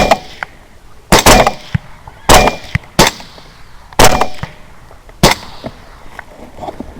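Rifle shots fired at hogs during a hunt, several sharp, loud cracks in irregular succession, each with a brief echoing tail, close to the listener.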